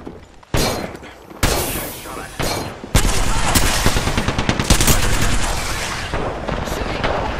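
Gunfire in the Apex Legends video game: loud bursts of rapid automatic shots crack out at close range, with separate single blasts early on and then a dense, sustained stretch of firing and impacts.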